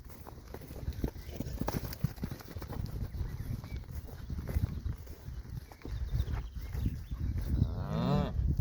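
Cattle on a livestock farm low while being turned back out into a paddock, with shuffling hooves and steps throughout and a clear, drawn-out moo rising near the end amid steady outdoor noise.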